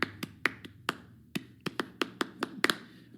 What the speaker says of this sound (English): that's the clap pattern